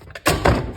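A fan clutch on a Ford Ranger is spun anti-clockwise by hand until it comes free, giving a close, dull thunk followed by a second heavier knock as the part drops loose.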